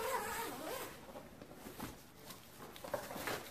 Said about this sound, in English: Find a zipper to get in.